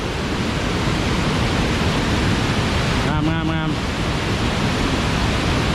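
The Tad Sae waterfall near Luang Prabang, Laos, running low in the dry season, gives off a constant, even rush of water. Someone briefly speaks over it.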